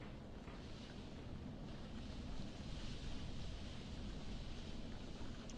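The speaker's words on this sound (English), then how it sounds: "Sounds a bit breezy out there." Steady breezy wind blows outdoors, a continuous broadband rush with mild gusts throughout and no voices.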